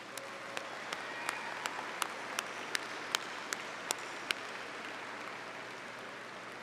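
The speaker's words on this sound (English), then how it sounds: "Let's give them a round of applause for all they did to get you here today" Audience applause at a Texas State University graduation ceremony: a faint, distant wash of clapping with one nearer pair of hands striking sharply in an even, steady rhythm.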